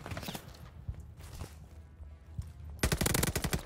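Rapid bursts of Type 100 submachine gun fire in Call of Duty: Vanguard, short volleys early on, quieter shots in between, then a loud sustained burst near the end.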